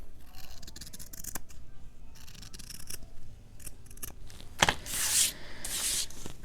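Scissors cutting a paper bag journal: close snipping and crisp paper rustle with soft handling sounds, ending in a couple of louder, brighter cuts through the paper.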